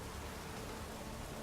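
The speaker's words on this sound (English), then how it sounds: "Looks like rain" Rain falling in the video game The Witcher 3, a faint, even hiss of steady rainfall with soft patter on surfaces, continuous and distant with no voices.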